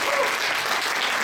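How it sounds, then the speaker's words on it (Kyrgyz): Close, loud, continuous clapping from an audience at a speaking event, a thick, even roar of many hands without a break. "Өзүңүздөр кол чаап койсоңуздар болот."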